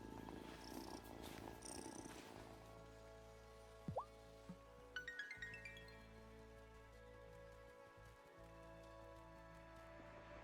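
A cat purrs steadily in the farming sim video game Wylde Flowers, a soft continuous rumble over a rain-like patter and background game music, with brief chimes partway through.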